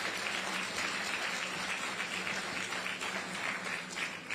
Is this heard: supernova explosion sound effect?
no